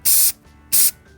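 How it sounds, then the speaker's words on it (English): Two close, loud bursts of aerosol spray paint hiss from a can, each about a quarter second long, separated by a brief pause, with a third burst starting at the end. "I want to spray some more."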